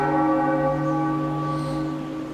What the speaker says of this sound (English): I love the pitch of this bell.